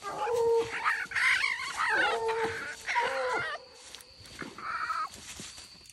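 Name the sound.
bluetick coonhound baying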